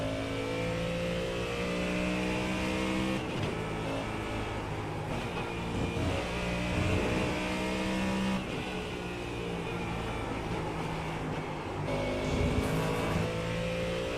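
A GT3 race car engine in a racing game at Watkins Glen, revving and accelerating through gears with rising and falling harmonic pitch sweeps, steady and fairly loud, with brief shifts breaking the drone.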